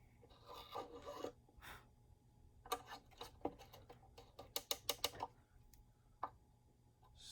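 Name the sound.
reamer backspun in a violin peg hole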